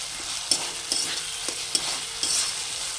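Whole spices and ground coriander and cumin sizzle steadily in hot oil in a pan, with a few soft stirring scrapes at an uneven rhythm, close and fairly quiet, with no voices.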